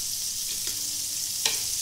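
Butter sizzles on a hot grill pan while paneer tikka is being made, a continuous gentle hiss with a faint scrape or tap near the end.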